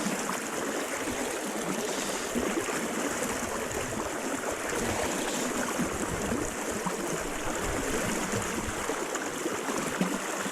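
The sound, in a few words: fast river current in high water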